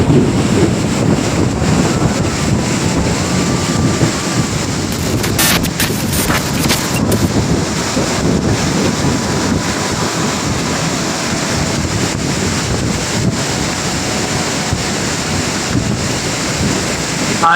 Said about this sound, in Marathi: एकदम वादळ, तुफान पाऊस.